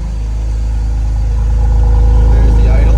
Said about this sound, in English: there's the motor dropping down to a nice idle